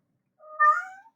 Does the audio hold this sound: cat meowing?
yes